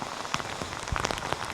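Rain patters steadily on surfaces around a remote forest village of a hill tribe, a dense continuous hiss with scattered louder drips and no voices.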